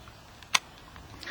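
One crisp click of a camera shutter firing at a fast shutter speed, close up and isolated against faint background noise.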